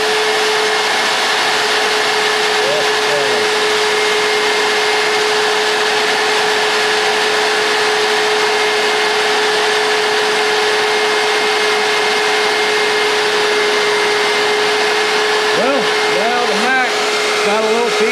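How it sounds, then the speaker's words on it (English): A magnetic drill bores into steel for modifications on a detachable lowboy trailer, its motor holding a loud, steady whine over constant grinding noise, with a few brief rising squeaks near the end. "That mag drill sure makes life easy."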